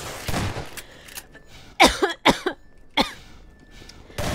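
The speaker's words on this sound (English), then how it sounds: "This woman made me cough." A person coughs several times in sharp, close bursts while playing Half-Life 2, mixed with game gunfire cracks scattered through the few seconds.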